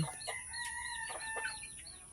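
Chickens cluck in short, repeated calls scattered across the moment, with a steady high background hum underneath.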